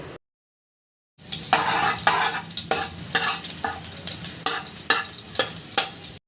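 Crushed garlic and cumin seeds fry in about two spoons of oil for a chickpea tempering, a bright crackling sizzle punctuated by repeated spoon stirs and scrapes against the pan, close and fairly loud after a brief silence.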